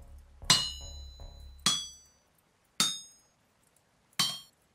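Metal hammered on an anvil in the game Vintage Story, shaping a chisel: four sharp ringing strikes spaced about a second apart, each with a bright metallic decay, loud and close with no talking.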